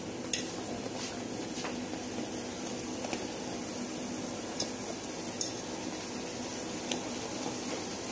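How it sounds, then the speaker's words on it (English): Jamaican fried dumplings frying in a pot give off a steady, soft sizzle, broken by a few sharp clinks of a utensil against the pot, with no one talking. "Making fried dumpling?"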